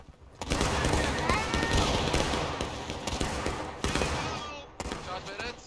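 A company volley of muskets in the Civil War game War of Rights crashes out as a dense, overlapping roll of gunfire, loud and sustained for several seconds, then trailing off into scattered shots with voices faintly behind.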